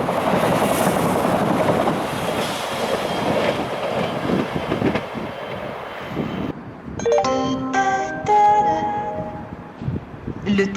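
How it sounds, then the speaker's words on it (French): A TGV high-speed train rolling into a French station platform, a loud steady rush and rumble, followed by the station's chime-like tones ringing out over the passing train noise. "Le TGV, en provenance de Paris, gare de Lyon, va entrer en gare, voie C."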